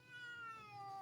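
A cat gives one drawn-out meow that falls slowly in pitch, faint and alone against low background noise.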